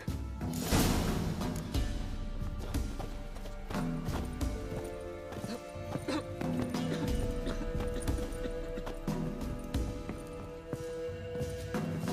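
Roach the horse galloping in The Witcher 3 video game, with steady clip-clop hoofbeats and an occasional whinny running under game music and ambient sound.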